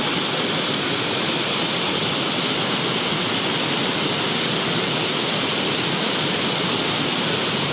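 Swollen, fast-flowing Batang Anai river current rushing through the Megamendung area, a steady loud broadband roar of churning water that continues without a break.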